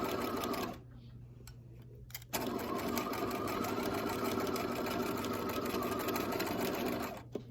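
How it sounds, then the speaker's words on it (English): A sewing machine stitches a bucket hat seam with a steady, close mechanical whirr, briefly stopping and then running continuously again, with no talking. "take a couple of stitches, and then back stitch, and continue sewing"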